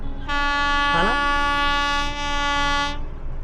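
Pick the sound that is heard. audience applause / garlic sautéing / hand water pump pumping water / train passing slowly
train passing slowly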